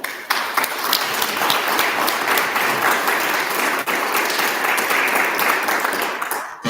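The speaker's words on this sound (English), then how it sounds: "thank you for that round of applause" Audience applause after a speech: dense, loud, steady clapping from a crowd that carries on for several seconds before breaking off near the end.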